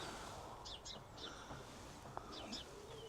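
Small birds chirp around garden bird feeders, giving short, high tweets in a few scattered bursts over a soft, steady outdoor background hiss, fairly faint and some distance away.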